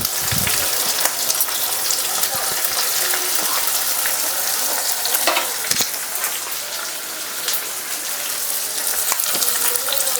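Capsicum sizzling loudly in hot oil in a wok, a dense steady crackling hiss close by with occasional stirring clinks; no talking.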